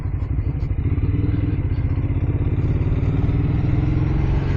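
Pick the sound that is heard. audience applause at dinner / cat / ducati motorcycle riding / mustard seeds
ducati motorcycle riding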